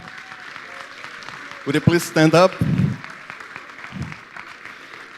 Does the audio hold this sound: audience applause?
yes